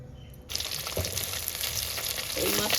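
Fish frying crisp in hot oil, where a quiet half-second gives way to a sudden loud, bright sizzle as it hits the pan, which then crackles steadily up close with a few stirring clatters.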